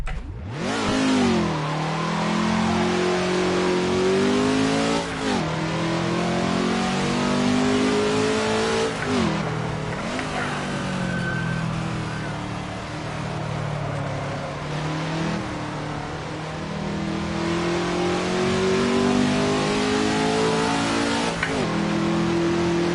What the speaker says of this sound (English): Get a couple more revs out of this motor anyway.